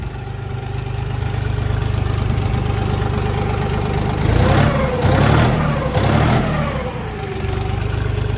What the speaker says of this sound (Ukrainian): Чуєте двигун?